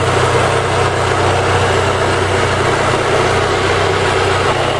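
A warmed-up Daewoo Lanos 1.4 engine idles close and steady, an even low mechanical hum with no pauses or revs.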